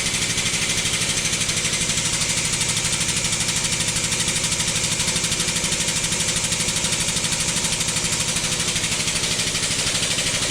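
An air compressor runs continuously in a workshop, a loud, close, steady engine-like drone with a fast rhythmic pulse that holds without pause throughout.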